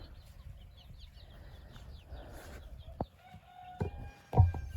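Chickens and hens on a small Ukrainian household farm, with soft clucking and scattered bird calls through the background, then a few sharper, louder calls near the end; no talking.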